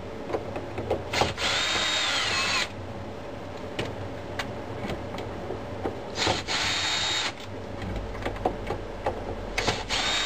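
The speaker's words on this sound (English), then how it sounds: "And then we just got to remove the 4 screws." A power drill removes the four screws holding a car's in-dash radio, giving several short whirring bursts of varied length separated by quiet pauses and faint handling clicks, recorded close up with no talking.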